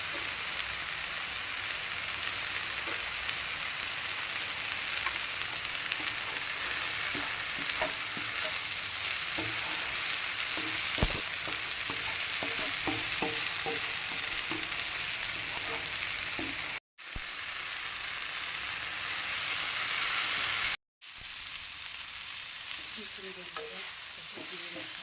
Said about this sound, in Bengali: বন্ধুরা দেখুন এই যে শাক ভাজা হচ্ছে।